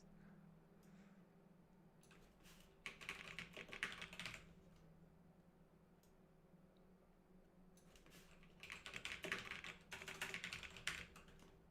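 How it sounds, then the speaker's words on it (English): Cheat codes being typed on a computer keyboard during a Sims 4 livestream: two separate runs of quick, close, clattering keystrokes with a quiet pause between, over a faint steady hum. "it's just me typing in cheats throughout the entire live stream"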